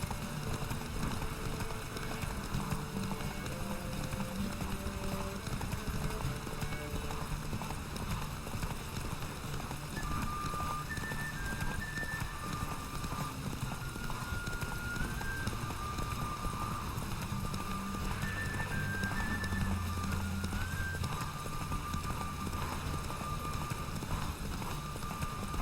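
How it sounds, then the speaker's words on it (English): A horse galloping in a race in The Witcher 3 video game, rapid steady hoofbeats running continuously at moderate volume alongside a soft game music score. "I love how I'm actually doing this race on Roach."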